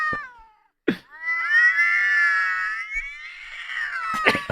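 Recorded cats squabbling, played back: a close, drawn-out harmonic yowl and caterwaul rising and wavering over several seconds, with sharp hissy bursts at the start and end.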